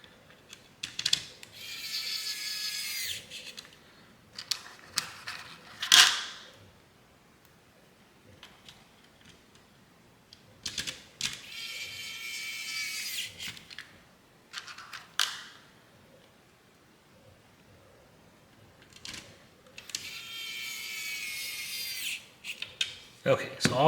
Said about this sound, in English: you're just going to take the same 4 screws that you just took out and install those